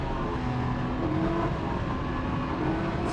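A Can-Am Ryker 900 three-wheeler accelerating in Eco mode, with a steady, moderately loud engine drone and road noise that holds constant throughout.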